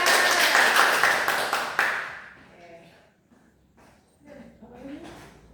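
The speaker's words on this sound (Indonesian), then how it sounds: "beri tepuk tangan dulu untuk Nabila" A classroom of students breaks into dense, loud applause for a classmate for about two seconds, then it fades and a teacher's voice speaks alone.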